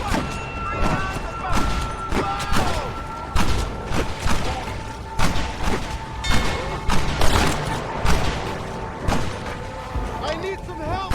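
Repeated gunshots from the Red Dead Redemption: Undead Nightmare video game ring out in irregular bursts, close and loud, with game sounds in between and a voice talking over the shooting.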